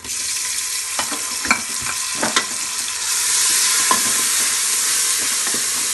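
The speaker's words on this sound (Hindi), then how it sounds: "टमाटरों को भी डाल के हम इसको थोड़ा सा भुनाई कर लेंगे।" Tomatoes sizzle steadily in a hot pan, with occasional stirring clicks and scrapes, and the hiss grows louder and fuller halfway through.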